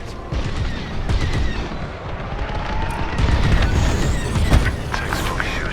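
Starfighter blasters firing in the Star Wars Squadrons space-combat video game, rapid bursts of laser shots over a roaring engine drone, loud and near with dense overlapping zaps.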